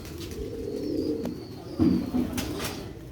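Sialkoti pigeons coo in low, soft, throaty bursts, a couple of rounds close by over a quiet background.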